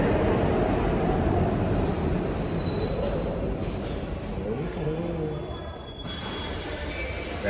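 An old underground metro train rolls into a station with a loud, steady rumble, and its wheels squeal in thin high tones that drift and fade as it slows. Voices murmur faintly beneath the noise.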